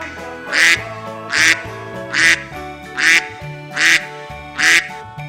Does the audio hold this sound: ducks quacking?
yes